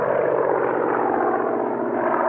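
An unidentified aircraft in an action film roars overhead as a loud, steady, broadband engine drone that holds level throughout without pause.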